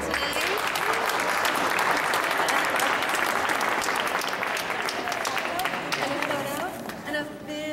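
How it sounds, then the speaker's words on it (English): An audience at a closing event gives a round of applause for the day's performers. The clapping is loud, dense and sustained, with some crowd noise, and it thins slightly near the end. "here for a round of applause if you perform today"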